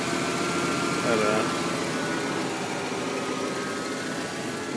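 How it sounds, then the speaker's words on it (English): A 1994 Ford Bronco Eddie Bauer idles steadily with a thin power steering whine above the low engine hum, fairly close, while someone talks over it. "That whine you hear is just a typical power steering whine in these Fords"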